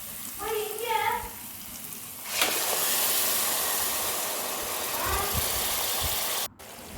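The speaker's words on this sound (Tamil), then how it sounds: "அரைச்சி வச்சுருந்த தக்காளியும் இதோடு சேர்த்து நல்லா வதக்கி விடுங்க" Tomato puree sautéed with onions in a pan for pepper chicken masala, giving a steady loud hissing sizzle that flares up when the puree goes in, with a voice talking briefly over it.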